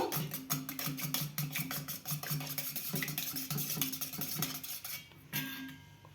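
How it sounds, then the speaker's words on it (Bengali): Eggs being beaten with a little salt in a bowl, a fast steady rhythm of close clinking whisks that runs for about five seconds before stopping, with no talking. "ডিমটাকে আমি ভালো করে ফেটিয়ে নেব।"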